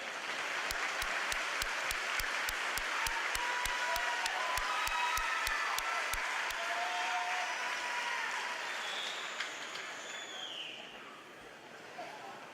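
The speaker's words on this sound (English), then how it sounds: "give them a round of applause for all they have done" Standing graduates at a high school commencement ceremony give a long, full round of applause for their families, a broad steady roar of clapping across a large hall that slowly tapers off toward the end.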